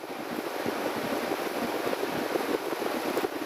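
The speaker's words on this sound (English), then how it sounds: "You can probably hear my fan in the background." An electric fan runs with a steady, close whooshing rush of moving air filling the whole stretch, a constant broadband hum with no voices over it.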